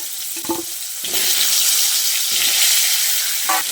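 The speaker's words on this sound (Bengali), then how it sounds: "আলুটাকে তেলের সঙ্গে ভালো করে ভেজে নিতে হবে" Thick-cut potato sticks fry in hot oil, a steady loud sizzle with brief clinks of stirring near the start and end.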